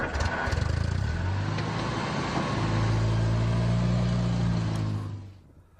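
A Land Rover four-wheel drive moving off road, its engine running at a steady, loud drone that rises slightly in revs, then fades out near the end.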